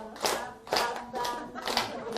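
A few slow, distinct hand claps, about four or five evenly spaced beats, near and moderately loud, with faint voices beneath them.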